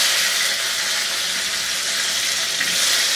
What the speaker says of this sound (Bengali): আমি হাই হিটে ভাজতেছি।